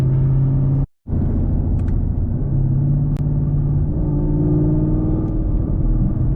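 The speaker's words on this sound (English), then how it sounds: "The downshifts on this car sound so nice." A Camaro SS making 500 wheel horsepower rumbles loudly from inside the car, its engine note shifting through downshifts, with a brief cut near the start.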